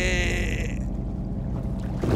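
A fishing boat's engine is opened up to full throttle while pushing among icebergs off Greenland, giving a loud, steady churning roar with water noise and no spoken words.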